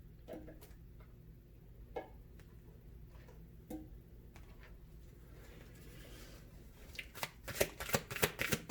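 Oracle cards from a Soul's Journey deck being shuffled by hand, soft riffling and sliding for most of the stretch, then a run of sharper, louder card snaps near the end, close by with no talk.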